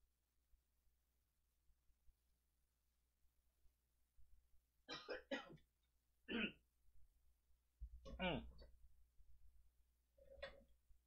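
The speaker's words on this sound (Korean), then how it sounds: "기침 소리 다 들어갔어." Several throat-clearing coughs come through a live-stream microphone during a stock market broadcast. They are close and fairly faint, arriving in short clustered bursts over a low hum.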